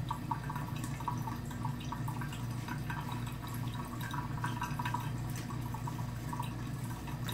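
A bathroom tap runs at low pressure with a thin, steady trickle and scattered faint drips, quiet and constant throughout.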